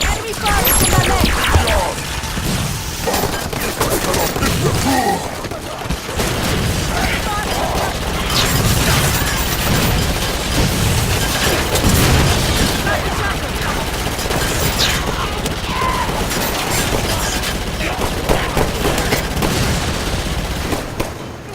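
Enemy gunfire in Halo 5 crackles in sustained volleys, a dense mix of rapid shots, booms and mechanical clatter running loud throughout, with voices calling out between bursts.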